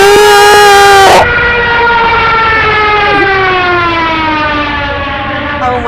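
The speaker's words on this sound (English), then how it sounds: "I'm referring to the Jericho trumpet or the Stuka siren." Junkers Ju-87 Stuka dive bomber siren, the Jericho trumpet, a loud, continuous howling wail that holds steady and then slowly drops in pitch.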